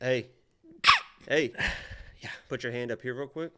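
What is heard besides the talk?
sneeze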